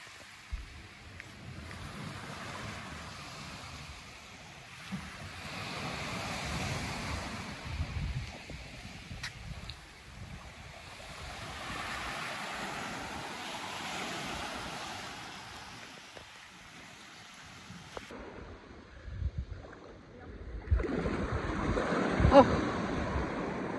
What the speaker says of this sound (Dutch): En daar is de zee.